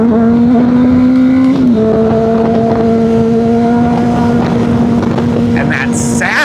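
A supersport motorcycle engine drones loudly and close, holding a steady pitch with a brief dip early on while wind rushes across the microphone.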